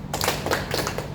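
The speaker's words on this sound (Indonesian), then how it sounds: "tepuk siang 3 kali" A quick run of sharp hand claps or taps from a classroom clapping game, a teacher-led 'tepuk pagi siang' routine with counted claps for morning, midday and night, close and crisp over a faint room hum.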